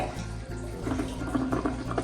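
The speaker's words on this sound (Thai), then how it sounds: "แล้วเราก็กดชักโครกได้เลยค่ะ" A toilet being flushed after the bowl is scrubbed clean gives a steady rush of water with a faint tonal hum, moderately close, lasting the whole stretch without talk.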